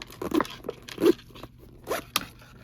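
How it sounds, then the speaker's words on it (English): The zipper on a thrifted purse with a nylon interior is pulled open and closed several times in quick, close rasping strokes, with brief pauses between pulls. "And the zippers work very nicely."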